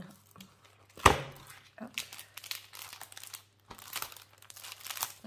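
A crinkly plastic package of little Christmas bells is torn and crumpled open up close in sharp bursts, with someone talking quietly in between.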